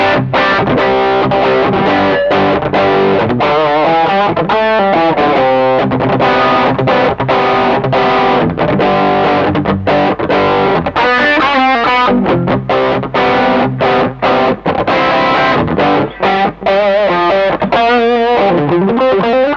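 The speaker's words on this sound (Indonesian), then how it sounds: "Sekarang saya coba tambah distorsi dari live distortion YMS" Telecaster electric guitar played through a YMS distortion pedal, with upgraded pickups and worn strings: heavily distorted chords and riffs strummed continuously and loudly, alone without talk.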